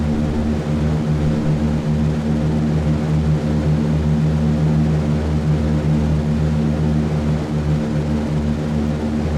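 Steady, loud drone of wartime B-17 bomber engines climbing after takeoff in a flight video game, a continuous low propeller roar with no breaks and no talk.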